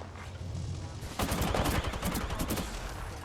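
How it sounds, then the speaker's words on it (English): Apex Legends gunfire starts as a quieter muffled rattle, then breaks into a loud, rapid automatic burst of closely spaced shots that keeps going to the end. "Contact. Getting shot at."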